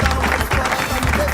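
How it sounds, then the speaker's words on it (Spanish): Applause for a champion during a live radio broadcast, a short burst of clapping with crowd noise and voices mixed in. "Un aplauso para el campeón el campeón del siglo."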